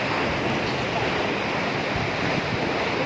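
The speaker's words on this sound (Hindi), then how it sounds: "जबरदस्त बहाव है भाई, पानी का बहाव बहुत तेज है।" Fast-flowing water rushing through the Hub Dam canal, a loud, steady broadband roar of turbulent current close by, with wind buffeting the microphone throughout.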